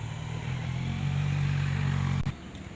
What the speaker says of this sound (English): I hear a Kawasaki, looks like Mr. Dixon, plod number 2.